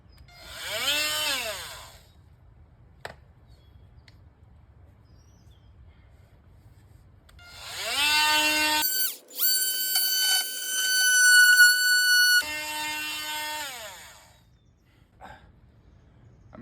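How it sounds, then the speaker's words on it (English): An electric chainsaw cuts through a small Corvette car body, a loud high-pitched whine that rises in two bursts, the second longer and harsher with metallic screeching, separated by quiet low hum. "I'm gonna use the electric chainsaw though."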